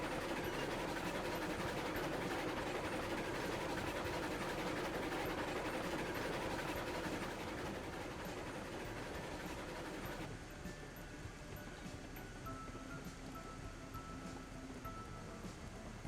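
A Heisler steam locomotive hauling iron cars in the Railroads Online game rumbles along with a dense, steady clatter and hiss at close range, easing slightly quieter toward the end.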